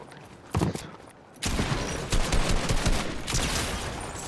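Bursts of gunfire in Fortnite, a short early volley then a sustained, loud stretch of rapid shots with dense overlapping reports and no talk.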